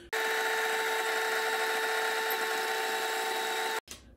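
KitchenAid stand mixer with the paddle attachment churns cookie dough: a steady, loud motor whine runs unbroken for nearly four seconds, then cuts off abruptly.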